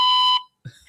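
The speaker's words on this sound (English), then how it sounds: "So at the beep" A single loud electronic answering machine beep, a steady tone lasting under half a second and standing alone, followed after a brief silence by the start of speech.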